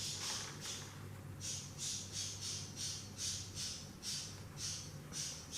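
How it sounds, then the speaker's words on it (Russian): A parrot lets out a long run of harsh, indignant squawks in regular bursts, close and fairly loud over a low background hum, on a rainy day indoors where cats are also kept. "Ой, попугай возмущается."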